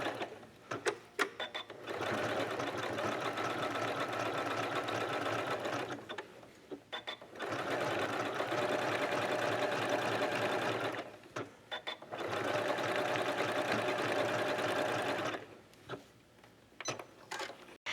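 A sewing machine runs a decorative stitch across an appliqué quilt in three long, steady bursts of rapid mechanical whirring, each lasting a few seconds. Short quiet gaps with small clicks and handling noises separate the bursts.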